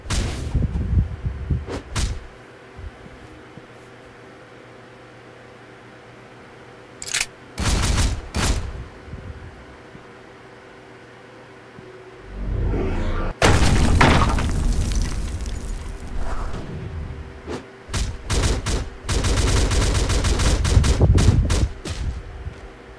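Gunshots sound in scattered bursts: a few sharp cracks early on, a quick cluster of shots in the middle, then dense, loud volleys mixed with booms and crashing impacts toward the end, with quiet stretches between.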